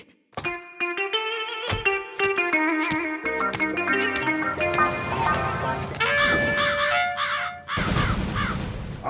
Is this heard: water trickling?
no